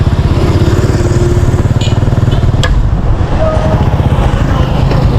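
A motorcycle engine runs steadily and loud throughout while being ridden through traffic, a continuous close rumble with a brief clack partway through.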